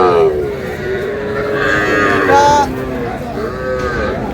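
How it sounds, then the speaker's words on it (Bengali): A young bull calf at a cattle farm moos in long, loud, close calls, with another moo following, while farm background noise continues. "ষাঁড় বাচ্চা। এই পাশেরটা"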